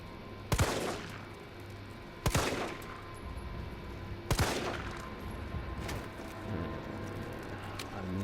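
Gunshots in the survival horror game Resident Evil 3, four sharp, loud reports spaced a second or two apart, each with a short ringing tail, over a low ambient rumble.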